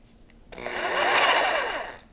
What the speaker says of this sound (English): Now a DeWalt jigsaw.